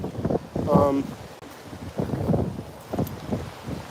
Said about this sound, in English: Wow, it's super windy, guys.